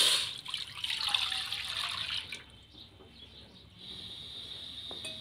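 Strained tamarind water pours into a hot wok for a sweet and tangy chutney, a steady liquid splash for about two seconds that stops, leaving quiet kitchen background.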